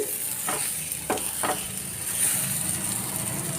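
Flour-coated taro root pieces fry in a little oil with a close, steady sizzle, broken by three quick scraping stirs early on.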